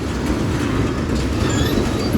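A Norfolk Southern manifest freight train led by locomotive 3661 rolls by at Central Avenue, a loud, close, continuous rumble of railcars with wheel clatter and faint squeal, no talking.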